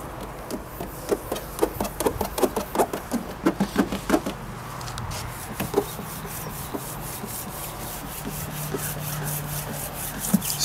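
A clay bar scratches across freshly washed car paint in quick rhythmic strokes, then a steadier rubbing, close and fairly loud over a low constant hum.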